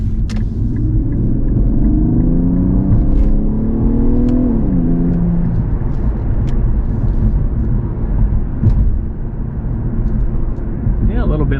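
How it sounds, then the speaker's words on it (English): An Infiniti Q50S hybrid fitted with a Takeda AFE intake accelerates in sport mode, its engine note rising and shifting through a steady, loud drone with a deep rumble throughout, while a voice talks over it. "gonna just kind of accelerate in sport"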